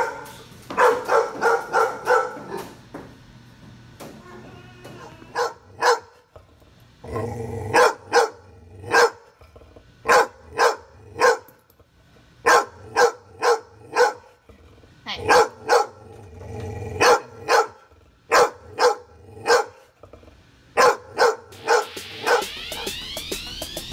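Dogs bark repeatedly during reactivity training, including a bully breed, in loud, close bursts of sharp barks with short gaps between volleys, plus some growling, over roughly twenty seconds.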